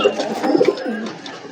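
Pigeons coo softly in a loft, a brief close murmur of low throaty calls.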